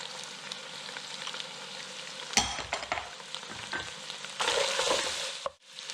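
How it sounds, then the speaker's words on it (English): Diced carrot and celery sizzle in a pan with softened onions and garlic for a lasagna sauce, a steady close frying hiss with louder bursts of crackle as the vegetables are tossed and stirred, no talking. "The onions have done their thing with the garlic. I'm going to add some diced carrot and diced celery."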